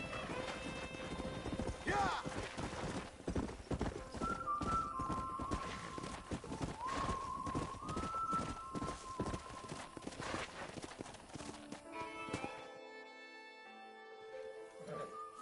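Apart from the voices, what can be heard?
horses galloping in video game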